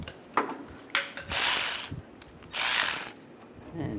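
A ratchet tightens a bolt on a 2013–2016 Dodge Dart windshield washer reservoir, in short bursts of close, crisp clicking separated by pauses, with no talk.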